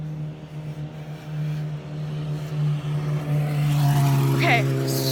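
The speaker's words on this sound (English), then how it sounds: "it's a motorcycle, but I'm sure they'll stop." A motorcycle passes on the road as a steady engine drone that swells louder toward the end, with faint background sounds throughout.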